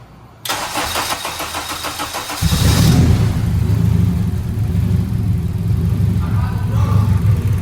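An Acura RSX fitted with a turbo kit cranks briefly, fires up with a sharp rise in loudness, then settles into a loud, close, rumbling idle; a voice speaks briefly over it.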